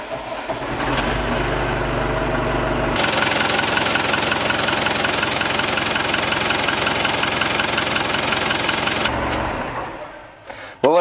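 A JCB backhoe loader's engine runs steadily with an engine flush additive in the oil, a loud continuous knocking drone that shifts in tone partway through before winding down near the end.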